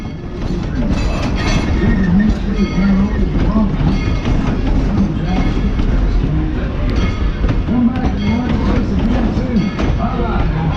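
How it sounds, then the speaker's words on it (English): Tweetsie Railroad train cars, hauled on the number 1200 ride, roll along the rails with a loud, continuous close-up rumble and steady clickety-clack of wheels throughout. "please remain seated until the train cars have finished rolling backwards"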